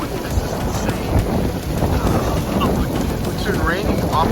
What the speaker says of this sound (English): It is raining like crazy in California.